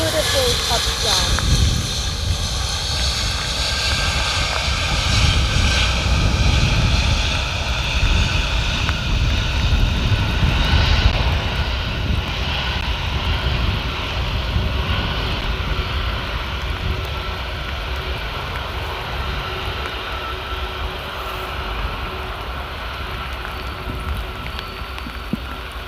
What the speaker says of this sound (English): Aircraft with the 4 engines. It's so mighty,